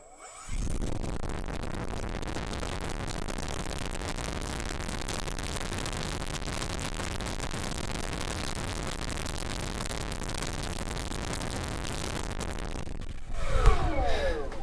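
A Rimfire 46 brushless electric motor runs up under test, giving a loud, steady broadband whir held at constant level for about twelve seconds before cutting off, with a brief rustle at the end.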